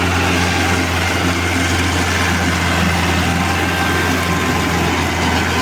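A tractor engine runs near a sugarcane field, a loud, steady mechanical drone with a constant low hum and no pauses, close to the listener and without speech.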